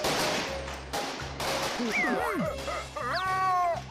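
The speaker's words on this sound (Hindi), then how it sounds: "यहाँ सामने आतिशबाजी हो रही है।" Cartoon fireworks popping and whistling in rapid bursts, with sweeping rising and falling tones over a steady musical backing, loud and close throughout.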